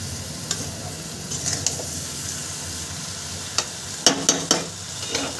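Sugar melting in a pan for a sweet-sour mango pickle, a soft continuous sizzle near at hand with a few sharp spoon taps and scrapes against the pan, clustered toward the end.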